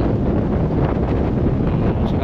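Strong outdoor wind buffets the microphone in a steady, loud, low roar that fills the whole stretch without a break.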